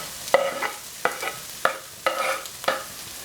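Chopped onion for a shepherd's pie sizzling in a pan over medium heat, stirred in about five evenly spaced scraping strokes over a low frying hiss, close and clear, with no talking.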